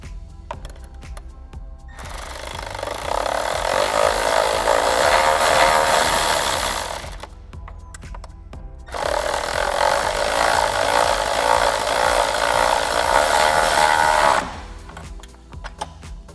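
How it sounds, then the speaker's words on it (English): A power drill drills a hole through a bracket for a Ford F150 3.0 oil separator install, whirring loudly in two long bursts of about five seconds each, separated by a brief pause with quieter mechanical clatter. "then we can drill our hole through there"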